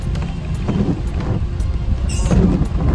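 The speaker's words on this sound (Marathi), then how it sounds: "अशा पावसानं रिप रिप रिप रिप चालू झालंय" Rain falls during a road trip into Navi Mumbai, making a steady low rumbling patter close around the car. It runs without pause, and no voices are heard.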